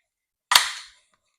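A pepper ball launcher from AR Tactical fires a single sharp shot that rings out and decays quickly into quiet.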